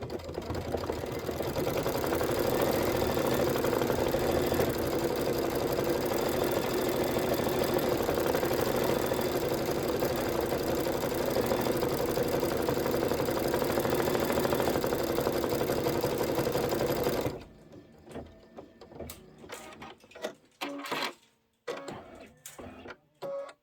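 A computerized embroidery sewing machine stitches out a design in black thread, a fast, steady mechanical whirring and rattling that runs continuously before stopping and giving way to a few sparse clicks and handling noises.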